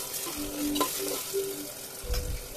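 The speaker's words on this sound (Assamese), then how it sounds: "পিঁয়াজখিনি ভাজি হোৱাৰ পিছতে মই বিলাহীখিনি দি দিছো" Tomatoes frying with onions and cumin in a pan for a jackfruit curry, giving a steady close sizzle with intermittent stirring scrapes and no voices.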